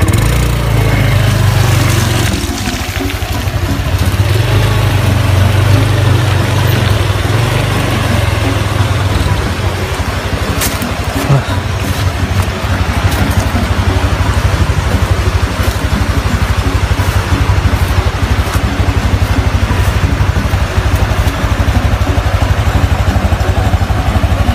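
An off-road motorcycle engine runs steadily on a rough, narrow village road, its loud low drone holding close and constant throughout with no talk over it.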